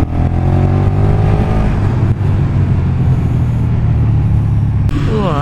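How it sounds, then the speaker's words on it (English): A motorcycle engine running loud and close at steady revs with dense rumbling, then a quick shift from an accidentally triggered quick shifter near the end as the pitch drops and climbs again. "Oh, I accidentally dabbed the shifter there. Activated the quick shifter when I really didn't need it."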